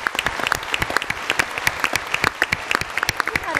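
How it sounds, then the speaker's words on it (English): Theatre audience at a political leadership debate applauding, sparse distinct hand claps from a modest crowd ringing out crisply and steadily. "I think give them a round of applause, too."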